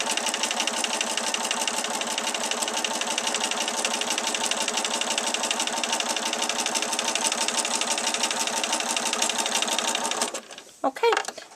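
A sewing machine stitches a quilt with a fast, even mechanical whir that holds steady for about ten seconds, then stops and leaves a few brief handling noises.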